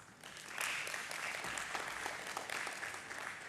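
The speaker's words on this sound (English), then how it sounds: "Please welcome them with a huge round of applause." Steady audience applause at a stock market listing ceremony, a continuous wash of clapping at moderate distance lasting several seconds as guests are welcomed.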